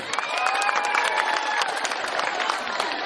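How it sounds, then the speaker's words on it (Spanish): Applause and cheering from a school audience at a secondary-school peace event, greeting a fifth-year student, with dense clapping mixed with shouts and some children's voices throughout, steady and fairly loud. "Aplausos para ella."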